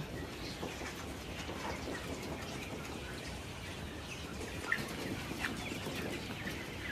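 Chickens clucking on a farm raising egg-laying hens in San Jose, Batangas, a steady busy flock murmur with scattered sharper calls, moderately near, no talking.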